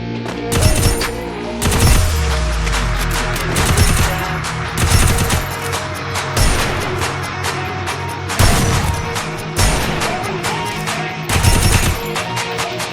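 Rapid bursts of automatic gunfire in the mobile shooter game Free Fire, loud and dense, with repeated volleys and booming impacts firing in quick succession throughout.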